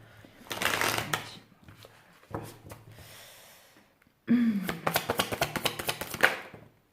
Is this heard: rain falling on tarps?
no